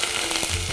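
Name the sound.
onion added to hot oil, sizzling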